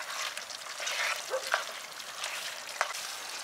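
Pepper chicken curry sizzles steadily in a pan at an outdoor camp by a reservoir while a utensil stirs it, with soft scraping strokes and a brief clink over the constant frying hiss.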